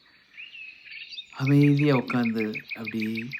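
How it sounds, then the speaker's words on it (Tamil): Sparrows chirp faintly by a river in a meadow, then a calm voice begins talking over the continuing high, thin bird calls. "குருவிகள் சத்தம் கேட்குது."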